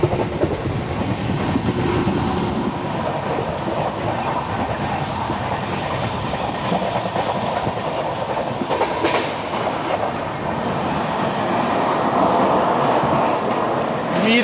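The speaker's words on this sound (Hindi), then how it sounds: "कल्याण की तरफ दौंड एक्सप्रेस जा रही" The Indore–Daund Express rumbles past towards Kalyan, a loud continuous roar of wheels and carriages with rhythmic clatter running through the whole stretch and no voices.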